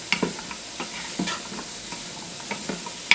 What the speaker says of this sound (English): So we're going to just do this for about good 2-3 minutes, just till the onions get translucent